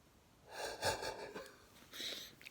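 A woman catches her breath after talking too much, with a few close, quiet wheezing breaths and a raspy gasping inhale, alone without speech.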